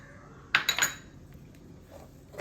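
Salted cut nutmeg pieces stirred in a bowl with a spoon, giving a short cluster of clinks and scrapes close by, then quiet with a faint knock at the end.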